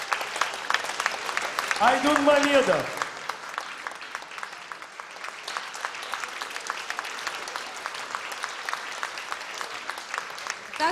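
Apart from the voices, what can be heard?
audience applause at music festival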